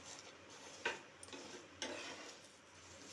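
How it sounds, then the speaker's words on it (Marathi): A sesame-and-jaggery flatbread (tilgul poli) roasts in ghee on a pan, giving a faint, steady sizzle broken by a few soft scraping stirs of a spatula. "दोन्ही बाजूला तूप लावून घ्यायचं आहे परत पलटवून घ्यायचे जिथे भाजली गेली नाही तिथे भाजून घ्यायचं आहे"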